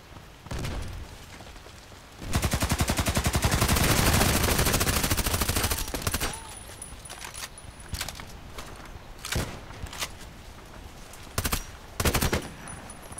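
Glock pistol gunfire in the video game Contract Wars, a long rapid burst of shots near the start followed by several short sharp bursts and single shots, loud and close.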